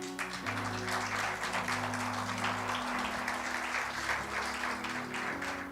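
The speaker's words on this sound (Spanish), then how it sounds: "Yo le daría un aplauso al Señor." Church congregation applauding during a Spanish-language sermon, a continuous wash of clapping over sustained organ or keyboard chords underneath, fairly quiet overall.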